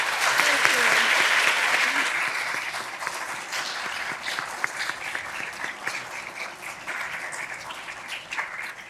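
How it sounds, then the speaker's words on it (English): A round of applause for the judges at a law school moot court competition final. It starts loud and dense, then thins into scattered claps, and a voice speaks over the fading end. "Could we have a round of applause for our judges?"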